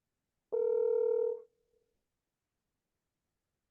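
A single ringback tone from an outgoing phone call sounds for about a second, a clean steady electronic buzz that cuts off and is followed by silence as the unanswered call goes to voicemail.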